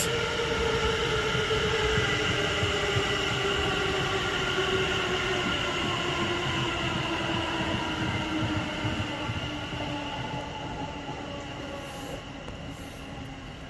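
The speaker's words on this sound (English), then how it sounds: "And then 730-210 on the rear set off from London Euston to Birmingham New Street." A passenger train, a very new set running London Euston to Birmingham New Street, rolls past at Rugby on the West Coast Main Line with a steady rumble and whining, shifting tones, the noise slowly fading as it moves away.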